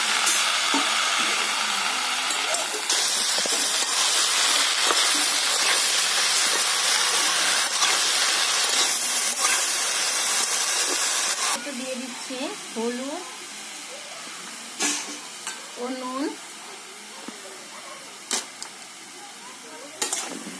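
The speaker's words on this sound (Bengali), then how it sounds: "ও পাঁচ ফোড়ন। এবার এতে দিয়ে দিচ্ছি চাল কুমড়োগুলো।" Ash gourd pieces drop into hot oil with dried red chillies and five-spice, setting off a steady, loud sizzle and hiss that later thins into softer crackling with stirring scrapes, while a voice talks over it.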